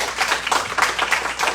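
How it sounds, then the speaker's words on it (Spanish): An academic forum audience at a law faculty claps to welcome a speaker, a short, even burst of many hands close by with no talking. "Lo recibimos con un fuerte aplauso,"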